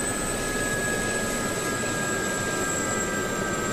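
A helicopter's turbine engine in the DCS World flight simulator after a fuel cut, giving a steady, close whine with broad rumbling noise and high tonal hums held evenly throughout, with no voices.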